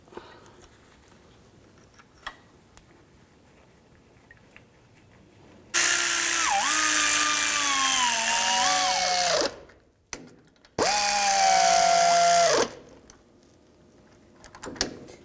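A power tool drives in brake caliper bolts on a Ford E-250 van in two loud, high whirring runs of about four and two seconds, pitch rising and falling, separated by a brief pause, with quiet workshop background before.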